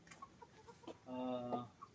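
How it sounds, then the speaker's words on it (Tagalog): A gamefarm hen with a cold gives a short, nasal clucking call lasting about half a second, close by and moderately loud, with faint scattered background noises around it. "Nagkasipon ng ating manok."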